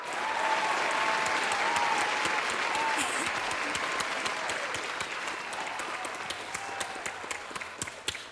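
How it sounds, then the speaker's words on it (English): Sustained audience applause and clapping for a contestant stepping up at a Welsh talent show, a steady dense wash that holds for the whole stretch and slowly eases toward the end. "can we please have the best of order and a massive round of applause up to the front for"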